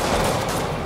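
Enemies firing guns at the player in a Spider-Man video game, a dense burst of rapid overlapping gunshots in one short loud volley.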